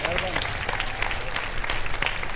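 Studio audience standing and applauding on a Ramadan iftar television show: dense, steady clapping fills the whole stretch, with a voice talking over it.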